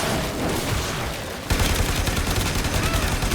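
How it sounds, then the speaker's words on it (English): Rapid gunfire from weapons in the video game Warframe, dense and loud throughout, with a sharper, heavier burst kicking in halfway and continuing as a steady rattling barrage. "tell me if the gunshots are too loud for the game audio in general"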